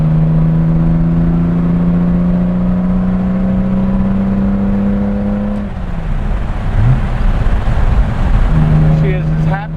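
A 1960 Aston Martin DB4 Series 2 coupe pulls in third gear, its engine droning steadily from inside the car with a rising whine, then easing briefly before picking up again; someone talks over the engine.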